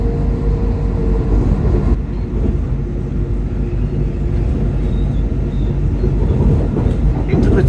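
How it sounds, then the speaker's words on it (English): A train runs on rails along the line at Dawlish, a loud, steady rumbling roar that fills the whole stretch, close by and unbroken. "I'm on an unhappy train."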